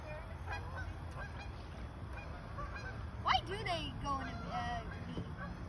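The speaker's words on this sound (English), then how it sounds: "Oh my god, the geese are attacking." Geese honking outdoors by the water, a few loud honks bunched near the middle over steady background noise, with people talking nearby.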